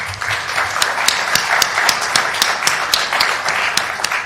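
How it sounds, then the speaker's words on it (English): Applause fills a congregational meeting, a dense, steady patter of many hands clapping at once, sustained and fairly loud throughout. "It's like a real State of the Union. There's applause."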